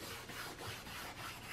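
Soft, rhythmic rubbing strokes on an antique brass knob clean dirt off it. The rasping back-and-forth sound is faint and close, repeating about four times.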